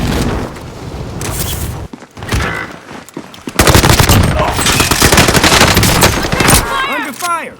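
Rapid bursts of automatic gunfire and explosions in a military video game, loud and dense, with a lull around two to three seconds before heavy firing resumes and falls away at the end.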